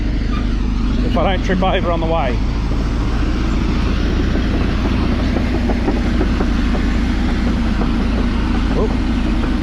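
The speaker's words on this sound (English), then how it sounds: "Listen to the V8." A V8 engine runs at an earthmoving site beside a rock pile, giving a steady, loud, low drone throughout while someone talks over it.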